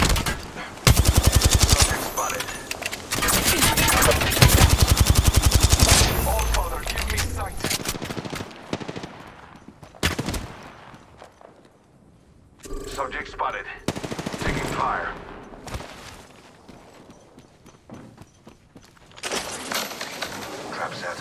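Rapid automatic gunfire in the shooter game Apex Legends comes in loud, dense bursts with brief pauses between them, alternating with sharper single shots and quieter stretches, close and dominant throughout.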